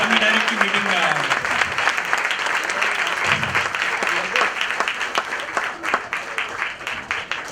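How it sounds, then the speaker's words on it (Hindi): Loud audience applause fills a Hindi-language product training meeting, dense steady clapping with some voices mixed in beneath, fading slightly toward the end. "प्लीज जरा जोरदार तालियां बजा दे"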